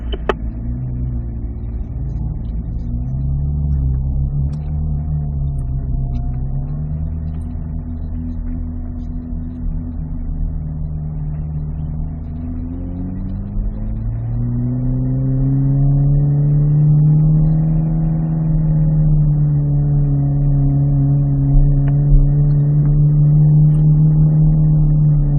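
A car engine hums steadily at low speed, then rises in pitch and volume as it accelerates onto a race track, a continuous close rumble with no voices.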